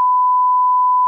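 A censor beep sound effect: one steady, pure electronic tone held at constant loudness for about a second, starting and stopping abruptly.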